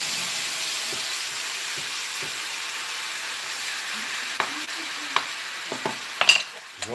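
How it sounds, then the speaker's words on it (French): Crushed strawberries with fresh green peppercorns are stirred in a hot pan, giving a steady soft sizzle with scattered scrapes and taps of the utensil that grow more frequent toward the end. "les fraises qu'on a écrasées, voilà. Voilà, et maintenant, on touille. On mélange le tout."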